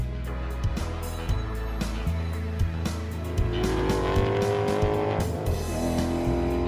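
A race car on new Pirelli tyres heads into the pits, its engine droning loudly throughout with revving rises, tyre squeal and passing-car rumble.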